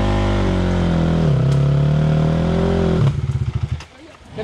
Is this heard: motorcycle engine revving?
yes